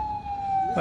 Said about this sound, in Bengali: হ্যাঁ পুলিশের গাড়ি আইছে আর কি পুলিশের গাড়ি আইছে